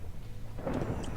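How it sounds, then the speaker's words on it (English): A distant thunderstorm in the Minecraft video game, a low rumble of thunder swelling after a quiet start, with a soft rain-like hiss beneath, heard alone. "Thunderstorm, thunderstorm,"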